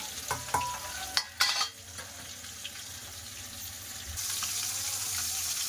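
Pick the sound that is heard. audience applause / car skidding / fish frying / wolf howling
fish frying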